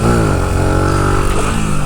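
A 125cc motorcycle engine revs hard and loud, pitch dipping as it shifts up a gear and then climbing steadily again, continuous and close with no talking.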